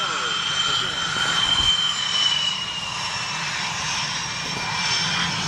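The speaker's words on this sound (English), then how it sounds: "For 2 aircraft, it's a Raptor, in fact it's one formation, Raptor and F-15 to recover." An F-22 Raptor and an F-15 fly in formation, giving a loud steady jet engine roar with a high whine that holds for several seconds, heard far off and continuous.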